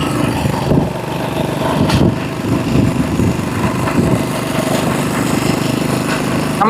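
The engine of a modified old Passion Pro motorcycle runs nearby with a loud, continuous rattling drone and slight uneven pulses, with no talk over it.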